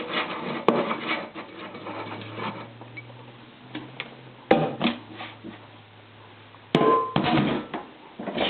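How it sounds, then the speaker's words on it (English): Noodle dough being scraped loose from a bowl, heard as scattered taps, knocks and scraping bursts, close by and fairly loud against a quiet kitchen background, with no talking. "I just scrape it loose."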